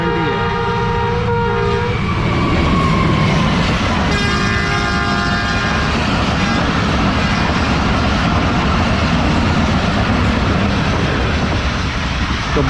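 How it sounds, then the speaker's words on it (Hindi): Farid Express, the 38 Down passenger train between Lahore and Karachi via Pakpattan, roars past at close range with a loud, steady rumble of wheels and carriages, its horn blaring in two long blasts near the start. "ये ट्रेन थी लाहौर और कराची के दरमियान वाया पाकपतन चलने वाली 38 डाउन फरीद एक्सप्रेस"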